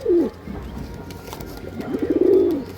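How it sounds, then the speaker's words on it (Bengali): Pigeons coo close by as they are released, a low throaty call near the start and a longer rolling coo near the end over a soft background. "এই ছাড়লাম পায়রা, দেখুন বন্ধুরা পায়রা একদম ওকে পায়রা আছে"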